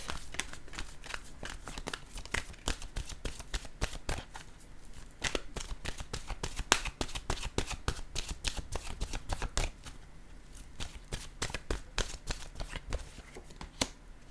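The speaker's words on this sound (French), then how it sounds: "Je vais choisir une carte maintenant de mon oracle de l'âme intuitive." Oracle cards are shuffled and drawn in a long, brisk run of crisp riffling flicks and slaps, close and steady, with no voices.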